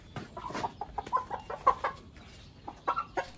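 Rooster and hen chickens of a large Jutaco line cluck in a close, busy series of short calls, several overlapping bursts with no talk.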